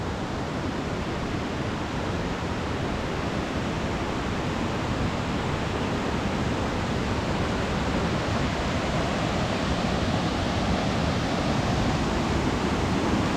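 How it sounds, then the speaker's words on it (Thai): Chet Khot waterfall in Saraburi pours down in cascades, producing a loud, unbroken rushing roar that holds steady and close throughout. "น้ำตกก็จะไหลลดหลั่นลงไปเรื่อยๆนะครับ"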